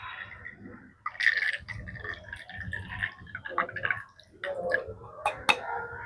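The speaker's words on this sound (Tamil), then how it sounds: "நல்லா பாருங்கள் தண்ணி ஊற்றுறோம்." Water is poured into a jar in short bursts, with splashing, gurgling and dripping sounds up close, mixed with quiet handling noise.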